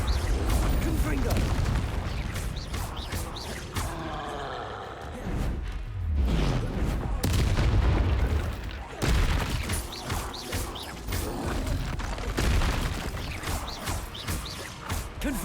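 Confringo explosion spells going off during Hogwarts Legacy gameplay, with loud, dense blasts and crashes repeating over a constant roar of game action and occasional voices.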